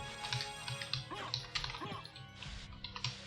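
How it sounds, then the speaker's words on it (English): A loud mechanical keyboard clacks in fast, irregular bursts during a Castlevania: Symphony of the Night speedrun, picked up by a microphone and mixed with yelping, bark-like sounds. "including the very loud mechanical keyboard that he uses"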